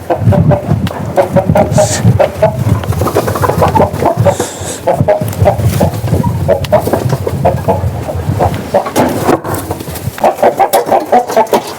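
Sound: chickens clucking

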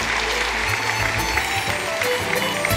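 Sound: audience applauding

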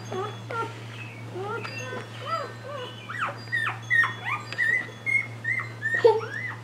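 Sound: newborn puppy squeaking

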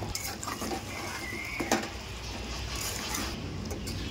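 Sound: stirring balushahi sweets in sugar syrup in a pan

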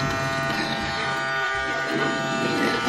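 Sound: toy vacuum cleaner cleaning floors

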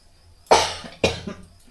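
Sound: cough

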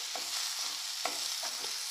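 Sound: onions and green chillies frying

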